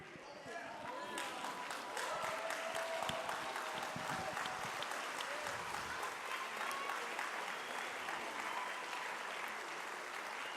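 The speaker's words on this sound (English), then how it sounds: "give them a round of applause" A school audience applauds a junior high band after the players' names are read, sustained dense clapping across the whole stretch with scattered sharp claps standing out and faint crowd murmur beneath.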